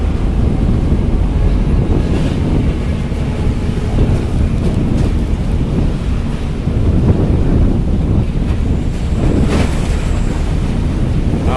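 Sea swell and strong wind batter the shore at Bakauheni port at night, a loud, continuous roar of surf and gusting wind buffeting the microphone, with no voices.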